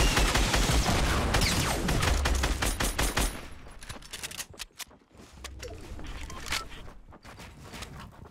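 Gunfire among players fighting in Fortnite on Xbox One, with dense rapid bursts of shots up close at first, then scattered sharper single shots and thinner bursts with gaps between them.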